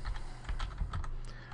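Fingers tap briskly on a computer keyboard while a web address is entered, a quick irregular run of close, light clicks with no talk.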